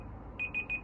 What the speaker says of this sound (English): Let me snooze that timer.